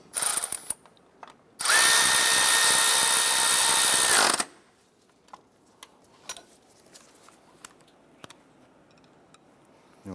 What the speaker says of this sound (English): Let's go ahead and tighten down that center bolt